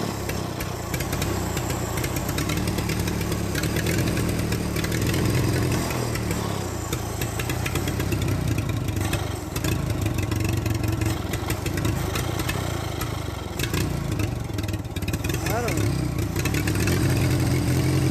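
A Minneapolis Moline BF tractor engine, fitted with a new carburetor, idles steadily and close by, a continuous low chugging rumble that holds for the whole stretch without clear revving.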